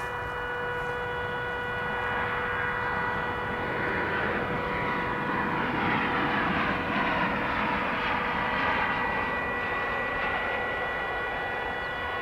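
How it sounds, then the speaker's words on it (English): An American Airlines Boeing 737-800 coming in to land at DFW airport, its jet engines a steady loud roar with a whining tonal hum, sustained throughout. "We've got a 737-800 American Airlines flight 1066 coming in from Mexico City."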